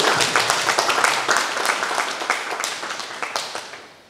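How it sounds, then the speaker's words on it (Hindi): A crowd at a Diwali Milan interfaith gathering in Hazaribag applauds together. Loud, brisk clapping starts at once and slowly fades over about four seconds, with no voices over it. "सामूहिक रूप से एक बार फिर हम लोग ताली बजा के सबके लिए धन्यवाद"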